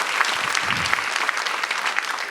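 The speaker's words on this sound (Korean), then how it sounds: "하나님 앞에 영광의 박수 한번 드릴까요?" Steady applause from a church congregation during an Easter revival evening service, dense overlapping hand claps held at an even level, with a low voice briefly murmuring underneath.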